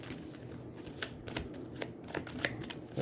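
Aeons End board game cards are riffle-shuffled at close range, a soft continuous flutter with sharper snaps at each bridge, quiet and alone.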